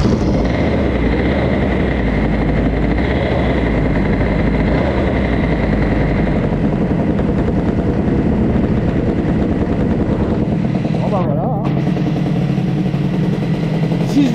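A cold CPI moped engine fitted with an Airsal 70 kit idling high: a loud, steady buzzing drone with a rough pulsing throb, dropping slightly in pitch toward the end as the idle settles, close to the listener.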